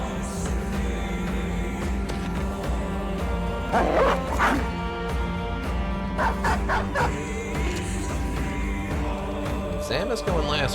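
A dog in the video game Battle Brothers yips and barks in a few short bursts mid-way, over game music and effects, with a voice talking alongside.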